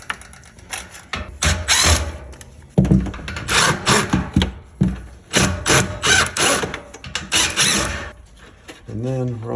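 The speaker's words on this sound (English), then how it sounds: "we go ahead and start taking all these little nuts off so we can get this pulled out" Repeated bursts of metallic ratcheting and scraping as small nuts are worked loose with a hand tool from a Bradford White gas water heater control valve, close up, with brief pauses between bursts.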